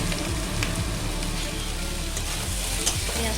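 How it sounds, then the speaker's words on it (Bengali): Onions sizzling as they fry in a pan for a Bengali Malabar spinach and shrimp dish, a steady close crackle with small pops throughout and no talk. "পেঁয়াজটা লাল করে ভেজে নেব।"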